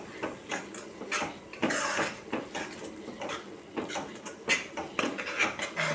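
Spicy village-style chicken masala is mixed in a pan with a utensil, producing close, uneven scraping and clinking strokes in an irregular rhythm.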